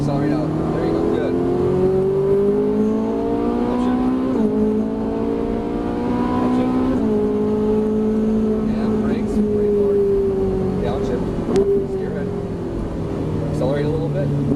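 Ferrari 458 Italia accelerating on a track, its engine drone rising and falling steadily in pitch as it shifts, heard from inside the car with an instructor talking over it.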